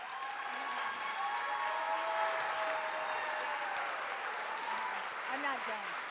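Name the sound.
audience applause for candidates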